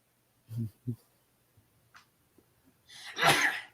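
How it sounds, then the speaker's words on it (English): A single loud sneeze bursts out after a couple of short breathy sounds, close and sharp against an otherwise quiet room. "Which sure. reminds me, I'm about to sneeze."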